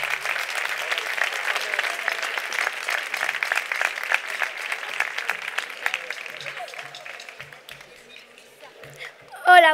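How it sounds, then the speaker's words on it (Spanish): An outdoor crowd in a town plaza applauds at a children's carnival proclamation. The clapping is thick and sustained, then thins out, with faint voices under it. A brief louder sound arrives at the very end. "Un fuerte aplauso para ella."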